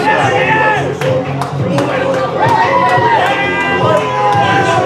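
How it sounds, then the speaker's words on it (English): A fight night crowd at a boxing and Muay Thai event roars and cheers loudly, with whistles and shouts rising over a dense babble. A commentator talks over the noise throughout. "The crowd are on their feet."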